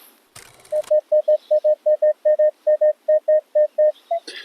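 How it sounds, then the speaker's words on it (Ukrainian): Minelab X-Terra Elite metal detector signalling a square buckle while hunting for antique treasure in Ukraine: a steady run of about sixteen evenly spaced, clean electronic beeps, close and clear, after a short rustle, with no talk. "Такий сигнальчик був, друзі"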